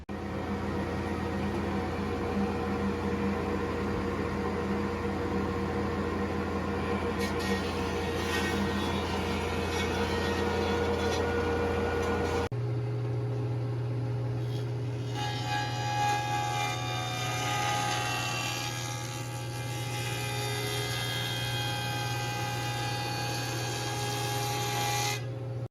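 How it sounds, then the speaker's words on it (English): Wood planer running a walnut board for an end grain cutting board, a loud continuous mechanical drone that holds for the whole stretch, its tone shifting abruptly midway as the cut changes, with no talk. "so we're going to fire up the planer"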